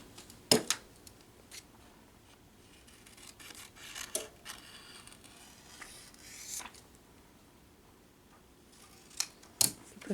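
Scissors snip while a printed T-shirt design is trimmed up close, with a few sharp separate cuts and soft handling rustles between them in an otherwise quiet room.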